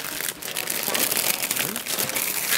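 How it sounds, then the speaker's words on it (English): A plastic bag is pulled down off a large block of clear ice, giving a close, continuous crinkling and rustling for a couple of seconds. "We'll pull this plastic bag down."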